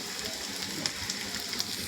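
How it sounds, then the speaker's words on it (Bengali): Bitter gourd fries in a pan with a close, crackling sizzle. Small pops and spits rise out of a steady hiss, and no one talks over it. "এই যে উচ্ছে ভাজছি, এই যে উচ্ছে ভাজা।"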